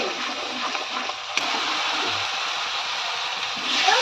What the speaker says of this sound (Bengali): মশলাটা ভালো করে কষিয়ে নিয়েছি, এবার জল দিয়ে দেবো